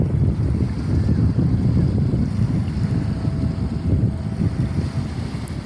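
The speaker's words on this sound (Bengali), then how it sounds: "এই স্পিড বোট দৌড়াইলো" A speedboat runs on the open sea off Doha, Qatar, its engine a steady low rumble mixed with wind buffeting the microphone and the wash of water, holding at a fairly even level with no voices.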